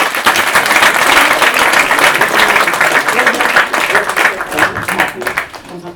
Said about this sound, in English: everyone give a huge round of applause